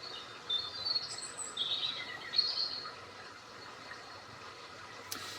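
Small birds chirp and tweet in short scattered bursts from a cat TV bird video, fairly faint over a soft steady background hiss.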